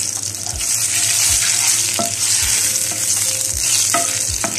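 Cumin seeds and curry leaves sizzle loudly in hot oil after garlic, with a steady frying hiss, interrupted by a few scraping stirs of a utensil, while making kadhi pakora.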